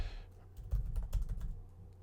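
Rapid computer keyboard typing, a short close burst of clicking keystrokes with no voices.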